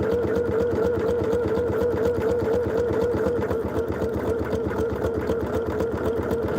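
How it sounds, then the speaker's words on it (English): A sewing machine runs a steady line of basting stitches through the seam allowance of a sweatshirt, its rapid, even mechanical whir and needle chatter continuing unbroken and close. "I'm going to run a line of basting stitches in the seam allowance"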